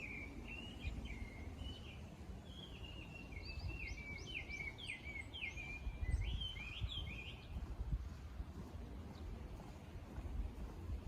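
A bird sings a series of high, warbling whistles for several seconds against a soft, breezy outdoor hush, fading out midway.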